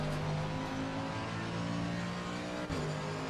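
Race car engines in Assetto Corsa Competizione, including a Ferrari and a BMW, drone with a steady, sustained whine at moderate level, holding pitch with a brief dip near the end.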